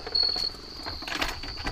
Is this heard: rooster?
no